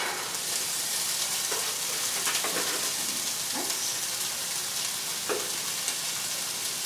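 Frozen corn sizzles in a hot frying pan as a steady, even crackle, broken by a few soft stirring scrapes, close and moderately loud with no talking.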